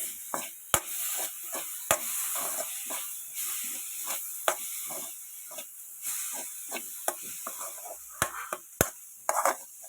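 Tomatoes cooking in a pan for a mushroom fry, with soft hissing and steaming broken by repeated sharp scrapes and taps of a spoon stirring against the pan, close and fairly quiet, with no talking.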